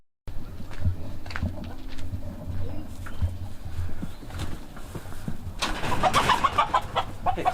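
Roosters and hens in a hen house give clucks and squawks under a steady barnyard rumble, with louder, busier calls that may include a crow near the end.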